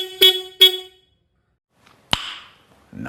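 A new aftermarket horn fitted to a Suzuki Raider R150Fi motorcycle sounds two short, loud, bright honks in quick succession. A sharp click follows, then a faint rustle.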